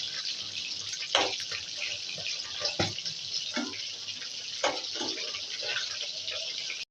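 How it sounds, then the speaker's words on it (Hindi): A steady crackling sizzle of Manchurian balls frying in hot oil, with scattered pops and spatters throughout. "जब हम इसको फ्राई करते हैं तो ये चटर चटर सी ज़रा आवाज़ आती है इसमें से"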